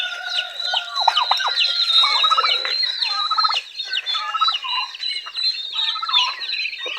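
A flock of Rhode Island chickens and chicks in a brooder, giving dense overlapping clucks, squawks and cheeps, close and lively throughout, with no one talking.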